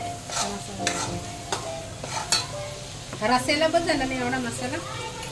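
Masala being stirred into prawns frying in a pan, with scraping stirs and a steady sizzle that swells after the spices go in, heard close up beneath voices talking.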